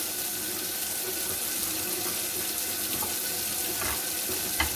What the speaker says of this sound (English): And run this warm water over it.